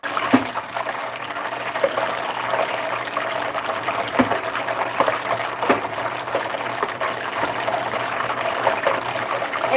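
Catfish frying in hot oil in a home kitchen, a dense continuous crackle and sizzle with scattered sharper pops, steady and close, no talk over it.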